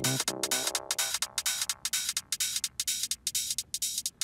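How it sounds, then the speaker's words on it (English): A techno track runs through a high pass filter, its low end stripped away so only thin, hissy rhythmic pulses remain, chopping steadily and fairly quiet. "A common one is the high pass filter"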